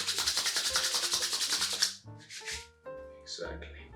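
Styling cream is rubbed briskly between a pair of hands, a fast rhythmic close-up swishing for about two seconds, followed by a few softer rubs and handling sounds.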